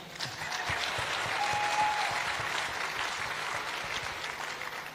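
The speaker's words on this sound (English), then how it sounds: "Clap for me." A church congregation claps during a bishop's sermon on marriage and family. The applause is sustained and fairly distant, a rolling wash of many hands that swells slightly and holds for several seconds without talk.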